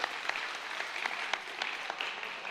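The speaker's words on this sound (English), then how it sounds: "Give me a huge round of applause." An audience at a live stage magic show bursts into applause, an even wash of many hands clapping at moderate volume throughout, with no talking over it.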